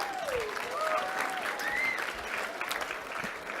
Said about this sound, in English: Can we just clap Amy, who broke her ankle playing rugby